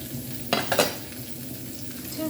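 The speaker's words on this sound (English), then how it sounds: "I'm putting some ginger and onion." Ginger and onion drop into a hot pan with a brief loud sizzle and a couple of scraping stirs, then settle into a quiet, steady frying hiss.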